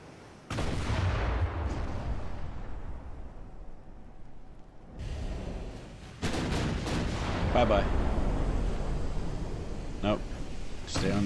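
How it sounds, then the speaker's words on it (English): Warship turret guns fire in the naval battle game Ultimate Admiral: Dreadnoughts: loud booming artillery blasts with long rumbling tails, one early and a heavier cluster later, while someone talks over parts of it. "We gotta turn so we can get that rear turret firing as well."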